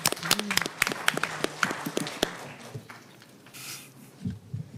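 Scattered claps ring out at a school board meeting, a few sharp bursts in the first couple of seconds that then fade into quieter room noise.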